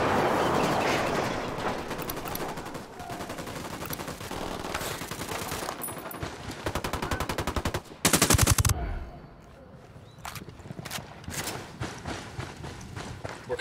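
Dense automatic gunfire from a Ghost Recon Wildlands firefight, loud, continuous bursts and rattling volleys with a sharp, heavier blast near the middle, then sparser shots trailing off.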